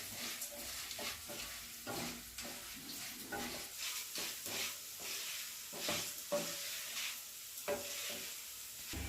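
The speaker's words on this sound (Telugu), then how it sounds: "మినుములు కూడా కొంచెం వేగుతుండగానే 2 స్పూన్స్ ధనియాలు. ఇది మంచి పచ్చి వాసన వేసిపోయి మంచి వాసన వచ్చే వరకు వేయించాలి." Urad dal and coriander seeds dry-roast in a pan while a spoon stirs and scrapes them in a steady, repeated rhythm, with a light sizzling crackle underneath. No one talks.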